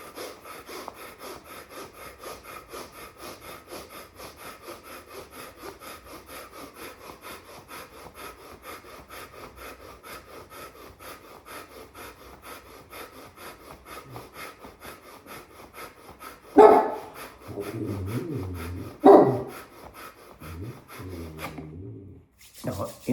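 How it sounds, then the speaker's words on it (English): Hands rubbing together along their sides during a yoga breathwork session, a steady close rasping friction that continues for most of the stretch, followed by a few louder bursts near the end. "rub sides of your hands."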